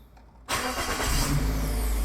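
A Perodua Alza car engine cranks and catches after a brief quiet moment, then settles into a loud, steady idle close by.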